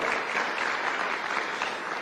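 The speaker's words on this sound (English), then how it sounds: "I think you should applaud yourselves for that" Dense, steady applause from a sizable crowd at a Kenya Private Sector Alliance 20th anniversary event, continuous clapping at an even level throughout without any voices standing out.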